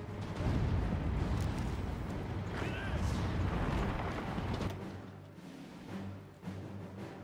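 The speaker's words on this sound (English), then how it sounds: "Oh no, I've nuked my own division!" A nuclear strike in Hearts of Iron IV sets off a long, heavy rumbling explosion that roars for several seconds and then tails off into quieter rumble, with a faint voice under it.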